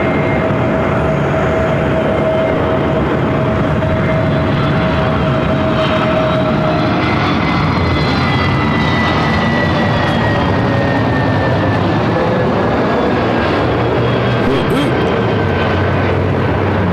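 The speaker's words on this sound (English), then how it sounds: "Frontier A320 Neo." A Frontier Airbus A320neo jet arriving on runway 24 right at LAX, its steady broadband engine roar loud and sustained throughout with a faint whine drifting above, no voices present.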